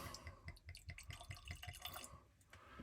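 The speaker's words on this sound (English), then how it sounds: "So I'm going to pour myself a little dram" Japanese whisky poured into a glass, a soft, close run of drips and gurgles trickling unevenly for a few seconds and then tapering off, with no talking.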